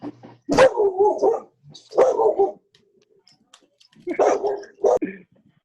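A fearful dog lets out a few sharp barks that trail into whining cries, in bursts separated by short silences, loud and close.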